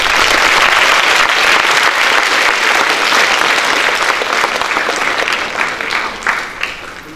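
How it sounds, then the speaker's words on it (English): A large crowd at a high school applauds steadily and loudly, tapering slightly toward the end with no talking over it. "please give Jess and his family a round of applause"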